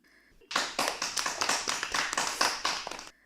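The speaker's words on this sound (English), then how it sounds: "So now let us clap for these people who try to keep our surroundings clean." Children clap their hands together in a brisk, close burst of about three seconds, the claps loud and rapid, beginning abruptly and stopping cleanly.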